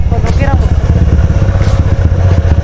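A motorcycle fitted with an aftermarket exhaust idles close by, giving a steady, throbbing low rumble with faint clatter throughout.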